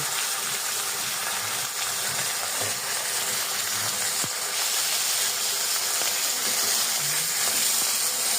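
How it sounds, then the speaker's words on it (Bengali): Fish fries in a hot pan with a steady, loud hiss of sizzling oil, broken by occasional faint pops and clicks. "এই যে মাছ ভাজতেছি।"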